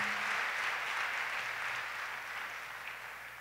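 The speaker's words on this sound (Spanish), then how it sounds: "Un aplauso para ellos." A church congregation applauds its worship musicians at a Sunday New Year's Eve service, giving steady, dense clapping from many hands that fades slightly toward the end.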